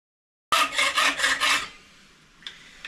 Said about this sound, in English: So we just chop it off with the hand saw.